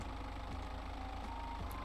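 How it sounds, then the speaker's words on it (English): Truck engine idling in the Winter Resort Simulator video game, likened to a Cybertruck: a low, steady hum with a faint rhythmic knock, quiet and unbroken. "This is what the Cybertruck sounds like."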